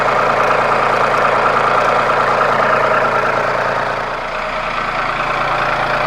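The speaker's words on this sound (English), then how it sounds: "So what I can do now is back the tractor up slowly." A tractor engine runs steadily as the machine backs up slowly to attach a backhoe, a loud, even low drone with a brief dip in level partway through and no talk.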